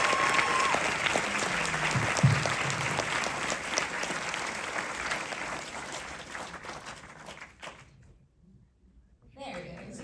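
Dense audience applause at a film premiere screening fills the room loudly for about eight seconds, then cuts off sharply into a near-silent gap before a brief swell of sound returns.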